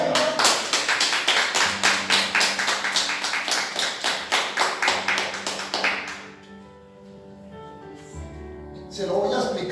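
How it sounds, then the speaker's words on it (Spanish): A church congregation claps in a fast, steady rhythm, loud and close, for about six seconds. The clapping then stops and the room goes quiet, and a brief burst of sound returns at the end. "¿Cuánto le dan un aplauso de tiempo?"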